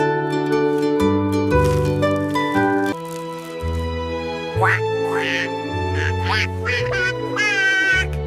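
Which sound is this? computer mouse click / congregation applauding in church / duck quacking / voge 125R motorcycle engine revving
duck quacking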